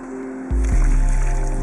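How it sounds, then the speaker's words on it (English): Water gushes into a planting box for desert farming, a steady heavy pour that starts abruptly and keeps splashing and gurgling without pause. "Now we're going to fill with water."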